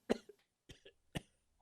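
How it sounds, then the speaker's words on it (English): Three short coughs, each separated by a brief pause, quiet and close, with no other sound around them. "he began to cough."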